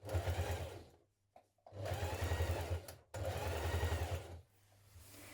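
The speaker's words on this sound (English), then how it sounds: "Now top stitch down each of the long edges" A sewing machine top stitches down the long edges of dungaree fabric in two long, loud, steady bursts, with a short pause between them and no speech.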